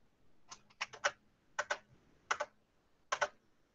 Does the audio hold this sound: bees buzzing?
no